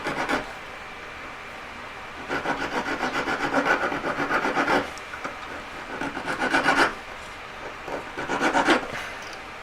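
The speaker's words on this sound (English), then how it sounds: "I'm just going to file it up, a bit jagged." A file rasps over a metal tree branch ring in four rhythmic bursts of quick strokes, close and clear, with short pauses between them.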